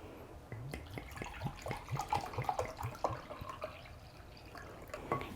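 Whey pours into a banana bread batter, heard up close as a run of soft drips and wet splashes in a quiet kitchen.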